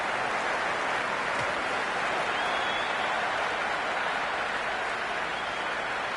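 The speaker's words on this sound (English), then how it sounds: "The spectators are absolutely buzzing right now." A cricket crowd at a T20 international between Sri Lanka and Zimbabwe gives off a dense, steady roar of cheering and applause. It stays loud and continuous throughout, with no clear voices standing out.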